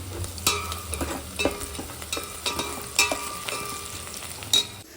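Ginger garlic paste sizzling and frying in a pan for chicken biryani, a steady crackling hiss with repeated sharp clinks of a spoon stirring against the pan.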